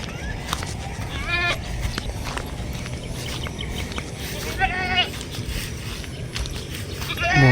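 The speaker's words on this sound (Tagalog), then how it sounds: "Dami pang kambing" Goats bleat twice, each call a wavering, quavering cry, one early and one later, standing out over a low outdoor background murmur.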